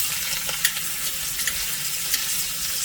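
A beef pot roast sears undisturbed in a Dutch oven, producing a continuous close hiss and crackle with a couple of faint pops, no speech.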